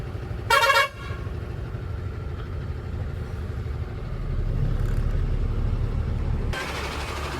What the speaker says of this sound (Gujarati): બીજી ગાડી પણ આવે છે લઈ લેસ